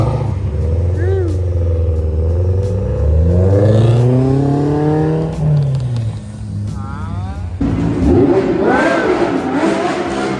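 Cars revving and pulling out of a BMW car meet, with rising engine tones and deep exhaust rumble up close, while people talk over the noise.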